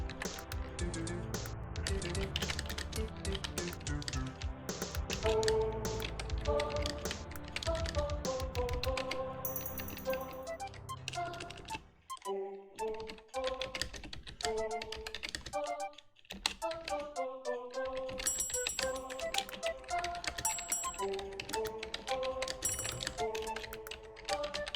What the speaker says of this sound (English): am typing way too fast for my own good